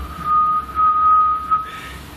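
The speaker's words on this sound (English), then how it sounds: "I don't know where the whistle's coming from, it's constant." A thin, steady whistling tone hangs in the air inside a lock keeper's building at Lock 91, holding one pitch for over a second against a quiet, hushed background, with a brief rustle at the end.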